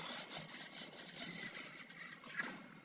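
Someone scrubs a stove top drip pan in steady, rhythmic back-and-forth strokes, a close, gritty rubbing that repeats about every third of a second with no one speaking.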